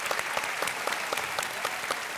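A studio audience on the Indian quiz show Kaun Banega Crorepati gives a contestant a round of applause after a win, with dense, even clapping that carries clear individual hand claps over a steady wash, loud and close throughout.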